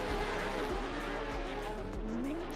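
A race car engine in a racing video game drones at high revs, steady and fairly faint, with a slight rise in pitch partway through.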